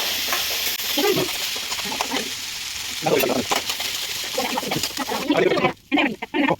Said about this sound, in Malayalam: അരി ഒന്ന് വറുത്തിട്ടാണ്